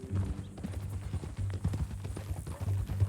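Horse hooves clip-clop in Red Dead Redemption 2, a steady walking rhythm of close, distinct hoof beats continuing under low background sound.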